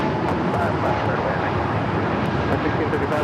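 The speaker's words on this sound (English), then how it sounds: "Breeze Airbus A220-300 now taking off" A Breeze Airways Airbus A220-300 takes off from Los Angeles International Airport, its engines making a steady, broad roar that holds loud and even throughout, with airport radio chatter in the background.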